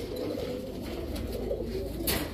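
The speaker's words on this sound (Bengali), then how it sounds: "এগুলো পাল্লা করা কবুতর।" Khaki pigeons, including a Jabra khaki pair, cooing softly and continuously at close range in a pigeon pen, with a faint background hum and no voices.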